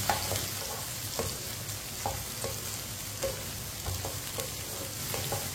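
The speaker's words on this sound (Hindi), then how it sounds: "भिंडी को इसी तरह चम्मच चलाते हुए फ्राई करना, ताकि दोनों साइडों से अच्छी तरह हमारी भिंडी ब्राउन हो जाए" Okra frying in a pan while a spoon stirs it, a steady sizzle broken by regular scraping clicks of the spoon against the pan, close and moderately loud, with no voices.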